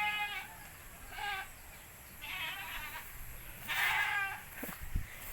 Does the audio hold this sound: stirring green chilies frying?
no